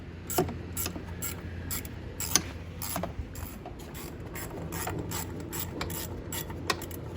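A ratchet drives bolts home while a heat shield is installed on a Vitacci Tank 200 EFI scooter. Steady, close clicking runs throughout against a continuous background rumble, with sharper clacks scattered through it and no speech.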